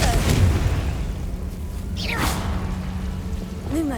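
A Confringo fire spell cast in Hogwarts Legacy gives a sharp whooshing blast with a low boom near the middle. A voice and other game sounds carry on around it.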